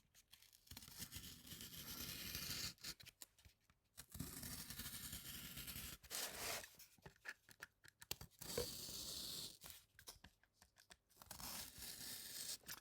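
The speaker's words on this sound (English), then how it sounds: "I've drawn a quick rectangular window and I'm going to cut that out now." A knife cuts out a rectangular window, making rasping, tearing scrapes in several sustained bursts separated by short quiet pauses, close and fairly loud.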